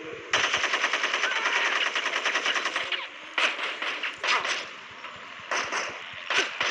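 Automatic machine gun fire in the video game Gangster Vegas: one long, loud, rapid burst followed by several shorter bursts in quick succession, with no talking.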